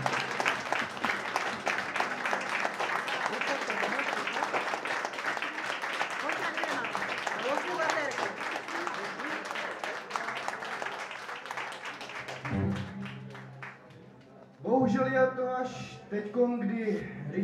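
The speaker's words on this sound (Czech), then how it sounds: "Kapela Tleska." A crowd applauds at a musical farewell for Richard Kočica, dense sustained clapping for about twelve seconds that fades out, followed by voices and musical tones.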